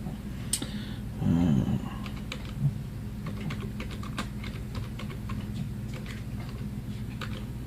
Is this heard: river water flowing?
no